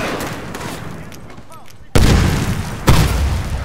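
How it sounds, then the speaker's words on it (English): Grenade blast in a multiplayer video game: after a quiet stretch, a sudden heavy explosion hits, followed a second later by a second loud boom, with a brief voice mixed in before them. "That nade blew up his PDM, which blew up me"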